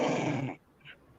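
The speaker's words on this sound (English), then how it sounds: "Don't you growl at me." A dog growls loudly and close by in one short rough burst, then stops, followed by a faint brief sound in a quiet room.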